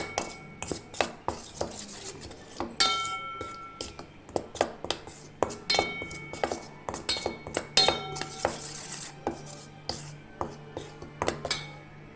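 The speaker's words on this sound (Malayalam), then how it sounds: "ഇതിനെ നന്നായിട്ടൊന്ന് ഇളക്കി യോജിപ്പിക്കാം" A spoon stirs asafoetida powder, salt and spice mixture in a glass bowl, giving a run of close, sharp clinks and scrapes in an uneven rhythm with no speech.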